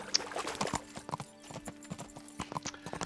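Horse hooves clip-clop in a steady walking rhythm through a forest in the medieval role-playing game Kingdom Come: Deliverance, close and moderately loud with a brief whinny-like cry near the start.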